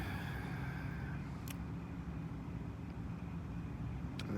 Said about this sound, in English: It's right as two cars were driving in front of me.